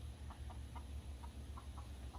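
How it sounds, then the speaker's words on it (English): A chicken gives soft, rapid clucks in a short irregular series, faint and somewhat distant over a steady low background hum. "I just got attacked by a chicken"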